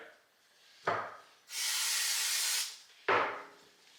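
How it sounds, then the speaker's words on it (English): A steady hissing spray burst of about a second from an aerosol can of carb cleaner onto a rag, close up, with brief bits of voice or handling just before and after. "Spray a little on a rag."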